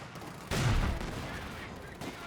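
Gunfire in a Company of Heroes 2 match, a loud burst of shots near the start followed by sustained rattling fire that fades slightly, heard alone.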